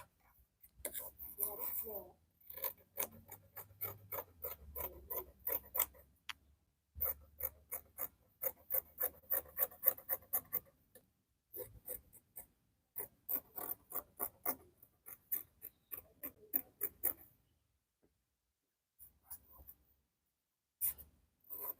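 Scissors cut through dress fabric for the front of a flare dress, giving rapid, close, rhythmic crisp snips in bursts with short pauses, and a voice speaks quietly at the start.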